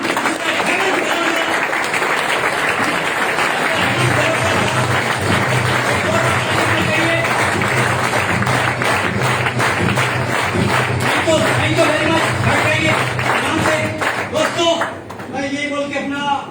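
An audience claps loudly to welcome a leader at a training session, a dense sustained round of applause filling the room throughout, with a voice speaking over it near the end.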